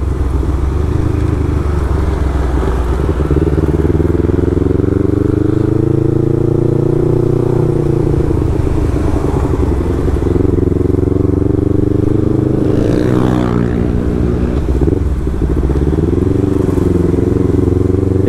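A Yamaha MT25 motorcycle fitted with a Vespa GTS silencer drones steadily at speed, its engine note rising and falling through gear changes, loud and continuous with wind noise throughout.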